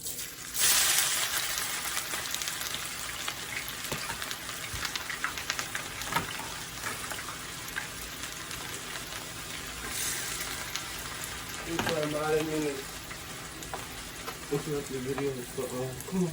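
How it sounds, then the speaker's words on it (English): Peppers and onions sauté in hot grease in a pan on a stovetop, giving a continuous soft sizzle with occasional scraping and stirring clinks. A voice talks briefly over the cooking near the end. "I'm going to saute these peppers and onions."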